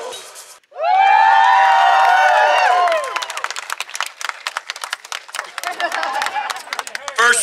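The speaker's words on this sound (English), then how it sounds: "the crowd's starting to gather out here" A crowd at a grand opening ceremony breaks into loud cheering and shrill whoops, then settles into scattered clapping and excited chatter, lively and close.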